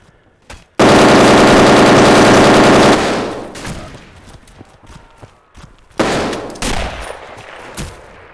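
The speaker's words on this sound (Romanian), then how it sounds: "Mitraliera inamică în fața noastră!" An enemy machine gun rattles off a loud, rapid, sustained burst in the video game Carpathian Crosses, followed by scattered gunshots and thuds at lower volume, with no talking over the firing.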